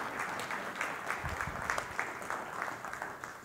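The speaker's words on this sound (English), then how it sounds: "Can we give her a round of applause?" A small audience claps for a pianist, a scattered round of applause at moderate distance lasting a few seconds.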